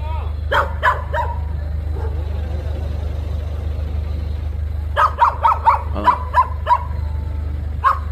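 Two bursts of sharp, repeated barks from a dog, several quick yaps each, over a steady low hum with faint background voices.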